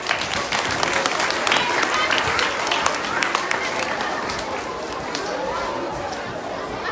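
Audience of children and adults applauding at a school art assembly, sustained dense clapping that is loud at first and tapers slightly, with chatter mixed in.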